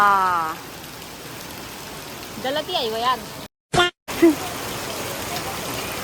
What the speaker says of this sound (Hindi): भाई बारिश ने कोहराम मचा के रख दिया, बहुत ज़्यादा बारिश हो रही है, बहुत ज़्यादा।